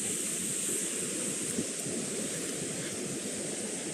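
Steady rushing wash of water, like waves or surf, fills the space continuously with a broad hiss and no voices.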